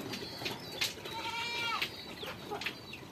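A goat on a farm bleats close by, a few drawn-out wavering calls rising over steady outdoor background noise, with no one speaking.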